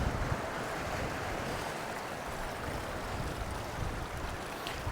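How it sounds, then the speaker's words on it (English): Chilly breeze gusting steadily across a seaside beach with rock pools, a continuous broadband rush of wind buffeting the microphone over distant surf, with no voices. "Bit of a chilly breeze blowing the old beard around."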